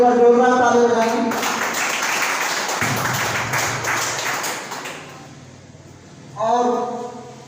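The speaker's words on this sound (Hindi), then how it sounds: "आदरणीय त्रिपुरारी सर और सुभाष सर के लिए एक बार जोरदार ताली बजाएंगे" An audience at an RCM marketing meeting in Sangrampur claps loudly for two guests, a dense burst of applause lasting a few seconds and gradually thinning out, with a speaker's voice just before and after.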